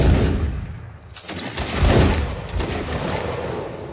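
Gunfire rattles in a Napoleonic-era battle in Mount and Blade: Napoleonic Wars, a dense run of loud, overlapping musket shots and booms that swell and fade over a few seconds.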